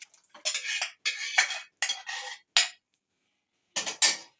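Restaurant-style Chinese beef chilli is served out of a pan onto a plate with a spatula. Loud, close scrapes and clinks of metal on the pan come in separate bursts, with short pauses and a longer gap before the last two scoops.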